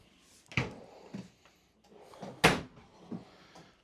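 Pull-out kitchen drawers with dovetail construction in a 2026 Jayco North Point 365RKTS RV being worked, giving several close wooden thumps and a sharp slide-and-stop clunk near the middle, with softer knocks between.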